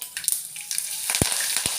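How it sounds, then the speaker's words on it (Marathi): Curry leaves sizzle and crackle in hot tempering oil, a steady close frying hiss broken by a few sharp pops. "बघा फोडणी एकदम कडक झाली. हे बघा मी कढीपत्ता टाकते त्यात थोडासा."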